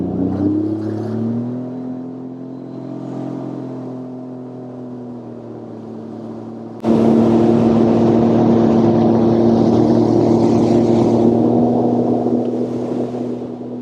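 A Sea-Doo personal watercraft engine drones steadily while cruising a lake near Huntsville. The loud, close, sustained hum with a whirring tone holds throughout and then jumps sharply louder midway, as if revving to speed, with no talk over it.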